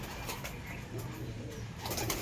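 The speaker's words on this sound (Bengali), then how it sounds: "এদিকে রয়েছে আমার নর পায়রা" Male pigeons, including Rampuri, Malbai and Andhra breeds, cooing in a loft, low soft throaty coos repeating close by alongside light rustling, with no talking.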